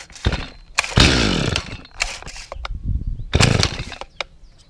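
A Stihl MS 250C Easy2Start chainsaw is pull-started several times, with loud, close bursts of engine sputter and cranking in an irregular rhythm and no talk.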